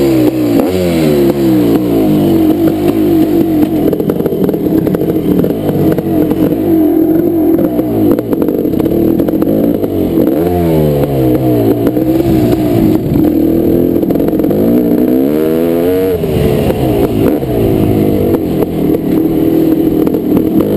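A 1998 Kawasaki KX500 two-stroke dirt bike roars around a motocross track, its loud engine rising and falling through repeated revs and gear changes with steady wind and rattling throughout.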